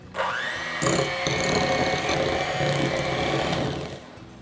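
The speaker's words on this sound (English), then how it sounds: "We'll come in here with a hand mixer." An electric hand mixer whirs steadily as it beats 16 ounces of softened cream cheese for cinnamon roll frosting, a continuous close motor whine with slight shifts in pitch as the beaters move through the bowl, running about four seconds before stopping.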